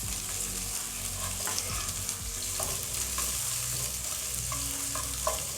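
A spoon stirs beans and pumpkin in a hot pan, scraping and clinking at irregular intervals over a soft, continuous sizzle of frying, close by and with no talking.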